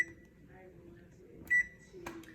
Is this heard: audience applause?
no